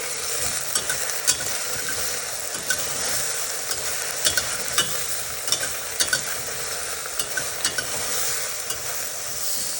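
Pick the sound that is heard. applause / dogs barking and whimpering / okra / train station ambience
okra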